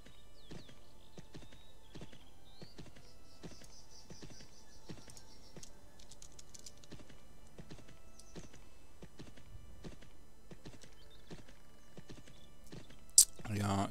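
Warhorse hooves in the video game Champions of Regnum clop in a steady, evenly spaced walking rhythm, soft and thin over quiet game ambience, ending with a sharp click.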